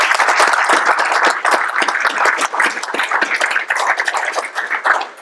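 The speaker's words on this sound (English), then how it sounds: "Let's give a quick round of applause." A classroom audience claps for a guest speaker in a dense, steady burst of applause that holds loud and close for about five seconds, with individual claps standing out in the wash.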